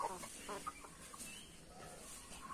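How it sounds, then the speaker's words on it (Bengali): A chicken clucks faintly in a few short bursts over a quiet, noisy background, with soft rustling around it. "আরে মুরগি এসে লাগছে রে"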